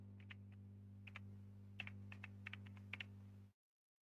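Soft, scattered keystrokes on a computer keyboard at a Kali Linux terminal, a dozen or so quiet clicks in irregular bursts over a steady low electrical hum, ending abruptly in silence.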